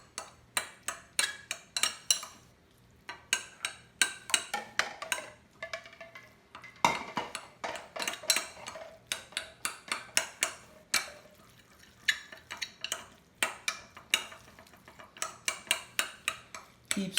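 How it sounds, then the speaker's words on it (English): Hot microwave macaroni being stirred with cheese added, a utensil scraping and clinking against the bowl in quick repeated bursts, close and fairly quiet, with brief pauses between strokes. "Then, while this is hot, you're going to add your cheese."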